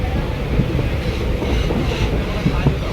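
Steady low rumble and faint rhythmic clatter of a moving train on rails, heard from inside a carriage as a continuous, moderately loud background with no clear talk.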